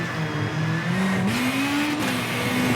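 A rally car engine in the video game V-Rally 4 revs up with a rising, straining whine as the driver holds first gear, steady and loud with light tire and road noise beneath.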